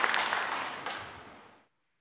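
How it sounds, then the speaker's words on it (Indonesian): A church congregation at a Sunday worship service applauds in a full wash of clapping that fades out and stops abruptly after about a second and a half. "Amin, tepuk tangan bagi Tuhan"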